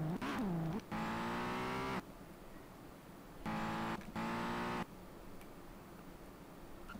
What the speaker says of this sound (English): I'm racing a pickup truck